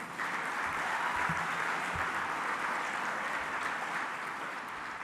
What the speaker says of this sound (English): round of applause, let's do that